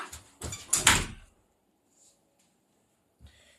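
A door closing in the video game Realmcraft, a short cluster of wooden knocks and clatter up front, then near silence with a faint later thud.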